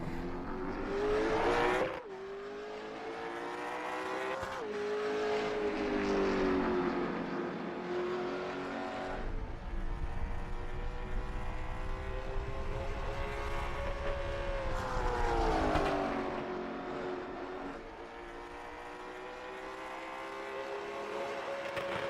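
A race car engine at a derby race, one car droning steadily and loud, with its pitch rising and falling through gear changes and laps, and no voices over it.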